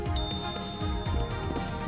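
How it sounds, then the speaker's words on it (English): A little bell in the video game Rec Room gives a bright ding that rings on with a long sustained tone over steady game background sound. "over here there's also a little bell"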